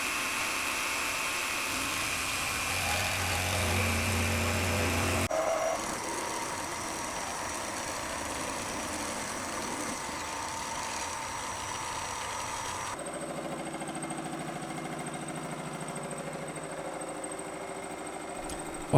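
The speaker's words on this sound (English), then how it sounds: "I've put the fly cutter in the collet and started milling" A CNC mill spins a fly cutter held in a collet, milling a base plate for a T-slot table while the cutter shakes and leaves a rough finish. A steady, loud mechanical drone with a whine shifts tone twice, with no talking.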